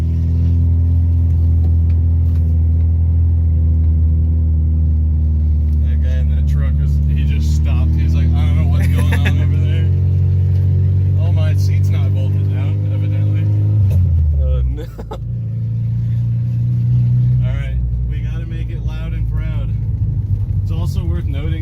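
A loud, road-registered car engine revs hard with a rising, climbing roar, dips sharply, then settles back into a heavy rumble while people talk over the noise.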